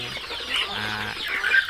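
Young native Thai village chickens, two to three months old, cluck softly and continuously at close range as a small flock.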